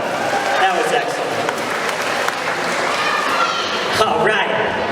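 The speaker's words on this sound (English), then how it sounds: "Give her a big round of applause one more time" A magic show audience applauds a volunteer, giving continuous, fairly loud clapping with a few louder bursts and some faint voices mixed in.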